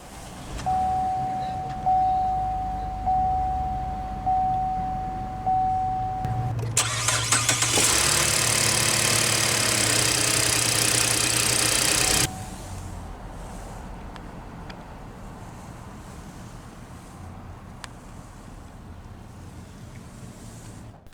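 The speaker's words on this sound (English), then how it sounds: "let's go ahead and start the engine" A 2015 Chevrolet Impala LTZ with push-button start cranks and catches with a loud surge, revs high for several seconds, then settles into a quieter, steady idle heard up close.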